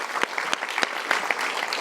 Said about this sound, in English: A very big applause for all of them.